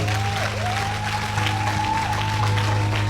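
A church congregation applauds the Lord at a French-language worship service, steady dense clapping sustained throughout over a constant droning tone and low hum.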